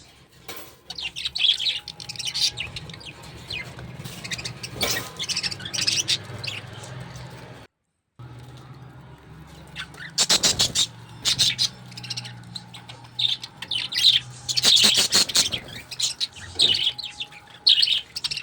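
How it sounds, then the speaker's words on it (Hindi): Caged pet birds chirp and tweet busily while feeding on spinach, a steady stream of small overlapping calls and occasional squawks at moderate loudness, continuing through most of the stretch with a brief silent gap. "तो इतना चहचहाते हैं, बहुत मस्ती करते हैं खाते वक्त।"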